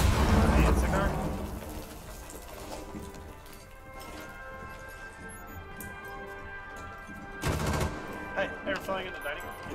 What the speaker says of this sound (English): She's shooting at me.